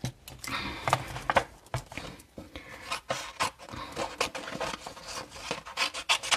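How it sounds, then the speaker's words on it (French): Card paper is cut by hand for a handmade card, giving irregular close scraping and rubbing strokes with short pauses in between, with no talking. "Ici, alors, je vais découper"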